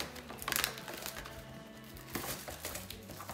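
Foil wrapper of a Pokémon card booster pack from the Shining Legends series being torn open by hand, giving close, uneven crinkling and crackling bursts over a low background bed.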